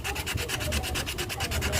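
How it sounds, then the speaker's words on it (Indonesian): Hand sanding with 180 grit sandpaper on a broken akar bahar piece being repaired: rapid, even back-and-forth rubbing strokes, about eight per second, close and steady with no talking. "Kita lanjut amplas pakai ukuran 180 lur."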